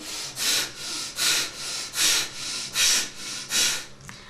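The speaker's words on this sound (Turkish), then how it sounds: "her iki burun deliğinden nefes alıp veriyoruz" Forceful breathing in and out through both nostrils during a nasal cleansing exercise. About eight sharp, rhythmic breath bursts come close to the microphone at an even pace, with brief pauses between them.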